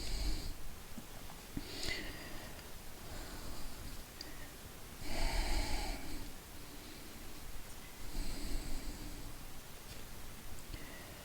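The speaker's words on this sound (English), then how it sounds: "Deep breathing." Slow deep breathing during a yoga class forward bend, soft airy inhales and exhales in long swells about every three seconds, quiet and close.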